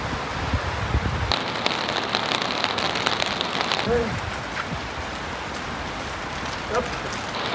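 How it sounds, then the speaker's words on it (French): Steady rain patters on a surface outdoors, a dense broadband hiss lasting throughout, with people talking intermittently over it. "Oh, il pleut!"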